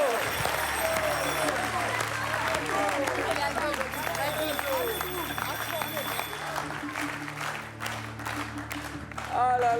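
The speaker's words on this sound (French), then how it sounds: "J'applaudis Aldo." Studio audience applauding a contestant on a French TV game show, sustained dense clapping for nearly ten seconds with cheering voices and a host talking over it.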